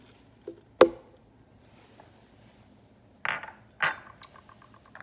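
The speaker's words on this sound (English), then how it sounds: "We're gonna add our 4 tablespoons of hemp seeds." Hemp seeds tip from a spoon into a blender jar, giving a few brief, light clinks and a short scattered rattle spaced across a few quiet seconds.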